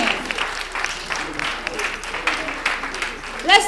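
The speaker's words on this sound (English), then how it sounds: "Let's give them a hand and a round of applause because they do good work." An audience applauds the women of pop, a steady wash of clapping that runs throughout with a swell near the end, and voices murmur faintly underneath.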